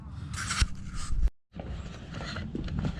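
A plastic pry bar levering a heated emblem off a 2017 Subaru WRX, close scraping and creaking strains, a short silent gap, then more low scraping and prying.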